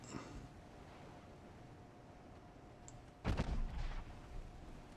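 Warship secondary guns fire once in the naval battle game Ultimate Admiral: Dreadnoughts: a single muffled, distant boom with a rumbling tail breaks an otherwise quiet, faintly humming scene.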